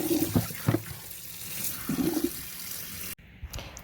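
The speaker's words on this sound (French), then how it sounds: "Une fois épluchées, bien les laver." Water running and splashing as peeled potatoes are washed, with brief sloshing pulses and a sudden stop near the end, close and moderately loud, no talking.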